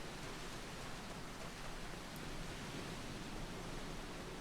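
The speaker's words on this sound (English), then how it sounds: "Raining again." Steady, faint rain hisses evenly throughout, an unbroken wash of in-game weather in Final Fantasy XIV with no other distinct sounds.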